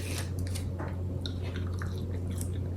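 Close, wet chewing and biting on mango habanero chicken wings and fries with ranch, several soft crunchy bites and squishy mouth sounds over a steady low hum, no talking.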